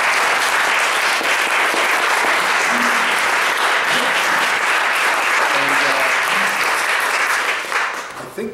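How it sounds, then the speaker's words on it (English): An outdoor audience applauds firefighters after a fire at Flat Rocks, a dense, loud, continuous burst of clapping that holds steady for several seconds before tapering off at the end. "I think we should applaud them."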